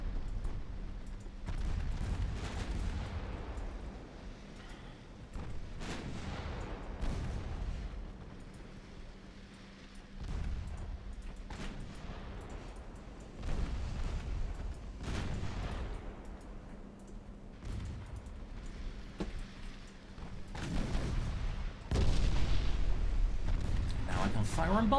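Naval artillery salvos from warships in the video game Ultimate Admiral Dreadnoughts, a run of heavy booming shots and rumbling impacts layered with game effects, with someone talking over much of it.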